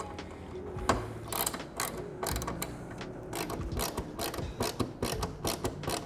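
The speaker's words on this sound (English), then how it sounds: "I'll go ahead and use that stubby 3/8 ratchet" A stubby 3/8 ratchet tightens nuts and bolts while installing NXT LVL bags, giving close, quick bursts of metallic clicking in an irregular rhythm, with short pauses between runs.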